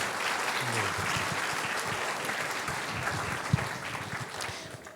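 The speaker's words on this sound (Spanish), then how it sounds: "Vamos a recibir con caluroso aplauso" A church congregation gives a dense, steady round of applause to welcome a speaker, continuous clapping throughout with no talking over it.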